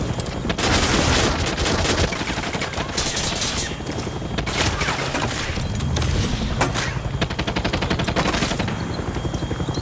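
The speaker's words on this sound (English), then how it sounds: "What are they actually shooting at?" Sustained automatic gunfire from a Far Cry 6 firefight, dense rapid bursts and booms filling the whole stretch at high volume with no pauses, heavy and loud throughout.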